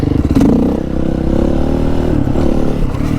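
A dirt bike engine holds a throaty, steady drone during a wheelie, loud and close, with slight shifts in pitch as the throttle varies and some faint clatter.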